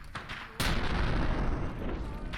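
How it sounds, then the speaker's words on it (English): A muffled boom lands suddenly, followed by a rumbling tail, like gunfire going off somewhere far away, in the video game Fallout: New Vegas. "I heard gunshots here, and I think it was from across"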